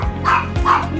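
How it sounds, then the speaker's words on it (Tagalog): A pet dog gives two sharp, loud barks close by, each quick and yappy, with a slight whine at the end. "Ay, naku, maingay na naman yung aso ko."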